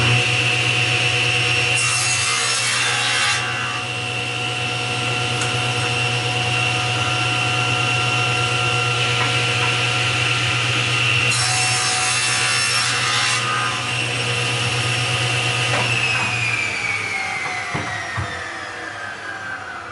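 A hand saw cuts through a wooden board, sides for a jewelry box, in a long steady stream of close, loud rasping strokes that eases off near the end.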